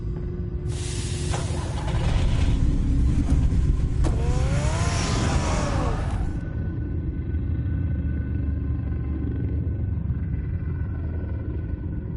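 Car from Batman: The Telltale Series starting up and driving off, a loud broadband engine roar and hiss swelling for several seconds with a rising whine, then fading to a low steady rumble.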